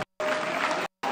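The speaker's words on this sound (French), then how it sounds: "on va les applaudir très fort, tous les deux" Applause from an audience at a junior kickboxing bout, 70.3 kg class, two three-minute rounds decided on judges' scores, bursting in as a steady dense wash after a short silence, then breaking off and resuming.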